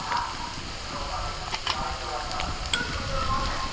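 A pea kebab mixture fries in a pan with a steady, close sizzle and occasional scraping clicks of stirring throughout.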